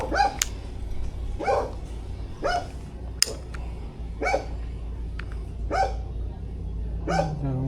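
A dog barks repeatedly at a fishing village pond, sharp yaps recurring roughly every second over steady outdoor background noise, fairly close and moderately loud.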